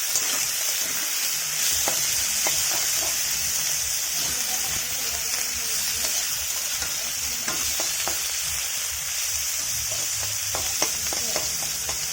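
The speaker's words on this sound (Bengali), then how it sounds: "হালকা করে বাঁধাকপি আর গাজর ভাজা হয়ে গিয়েছে।" Cabbage and carrot frying in oil in a pan, giving a continuous loud sizzle with scattered crackles and stirring scrapes, close up throughout.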